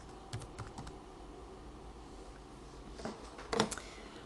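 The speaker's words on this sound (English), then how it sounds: "we're going to just type something here." A computer keyboard is typed on in short, light bursts of clicks, a few quick taps early on and a brief cluster of keystrokes later, close and faint against a quiet room.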